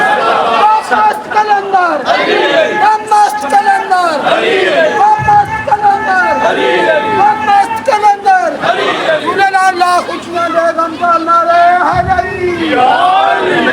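A crowd at a Shia majlis in Karachi chants the Qalandar slogan together, loud, rhythmic bursts of massed voices rising and falling close by, with a lead voice calling out between the responses.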